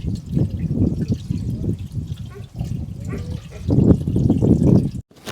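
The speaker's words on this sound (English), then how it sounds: "So now I'm gonna fill it with some water, see if it holds water, see if the tank holds." Water poured into the radiator of a 1955 Pontiac that has sat unused, a steady splashing and trickling fill heard close up, running almost continuously and swelling near the end.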